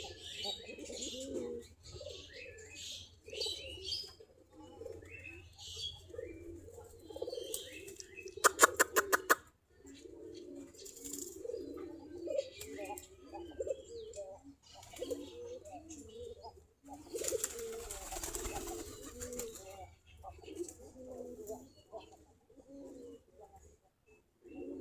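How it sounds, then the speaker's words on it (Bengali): Desi Giribaj pigeons coo repeatedly in a flock while bathing and drinking water on a cool morning, with soft, steady low cooing, brief wing flutters and splashes, and a few sharper bursts of wingbeats. "সকালবেলায় এরা গোসল করতেছে এবং পানি খাচ্ছে"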